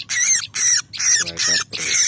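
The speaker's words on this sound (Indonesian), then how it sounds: "Ini dapat pelatuk" A woodpecker caught during bird trapping gives five loud, close, harsh squawks in an even rhythm, each separated by a short pause.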